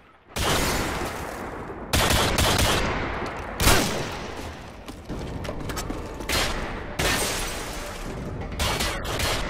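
Rapid bursts of video game gunfire in a one-on-one match, loud and close, with several volleys separated by brief pauses.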